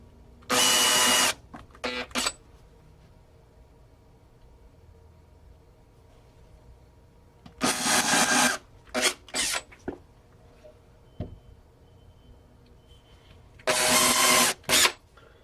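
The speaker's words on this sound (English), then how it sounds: "I'm just drilling some starter holes." A power drill bores starter holes into wood for a portable T-track base, with three main bursts of whirring and a few short blips, separated by long quiet gaps.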